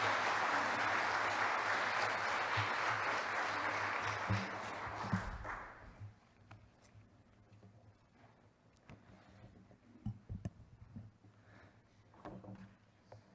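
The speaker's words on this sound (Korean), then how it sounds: "우리 목사님 처음 나오시는데 박수로 환영하시겠습니다" A church congregation applauds a newly arrived pastor at a Sunday service, a dense round of clapping that fades out after about five seconds, followed by quiet room noise with scattered shuffles and knocks.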